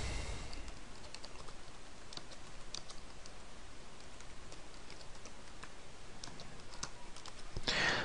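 Rapid, irregular clicks of typing on a computer keyboard while entering data into Sage payroll software, steady and fairly close, with no talking.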